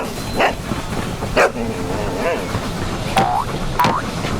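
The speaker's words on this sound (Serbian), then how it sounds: "Pas." A dog barks and yips in short separate bursts, moderately loud, with a few whimper-like rising notes between them in a children's animal song setting.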